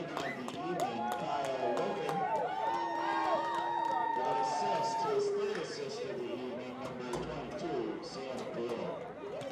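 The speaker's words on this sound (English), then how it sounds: "you hear the crowd there cheering them on" Spectators at a boys high school lacrosse game cheer and shout after a goal, a broad roar of voices and whistling whoops swelling then easing, with a commentator talking over it.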